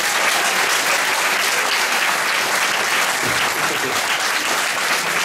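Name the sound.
applause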